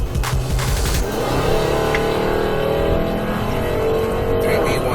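A white Dodge Challenger tears at highway speed through residential streets in Laredo, Texas, its engine a loud, sustained roar that never lets up.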